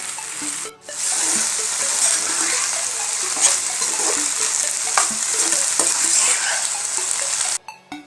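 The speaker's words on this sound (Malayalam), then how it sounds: "നന്നായിട്ട് നമുക്കിത് വഴറ്റി കൊടുക്കാം" Horse gram and ash gourd sauté in hot oil in a pan, a steady close sizzle and frying hiss with light scraping stirs throughout, briefly interrupted near the start and cut off at the end.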